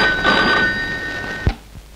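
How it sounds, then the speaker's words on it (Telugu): A telephone bell rings loudly and steadily in a Telugu film scene, a continuous electric trill that cuts off abruptly, followed by a dull thunk as the receiver is picked up. "మీకు ఫోన్ వచ్చింది."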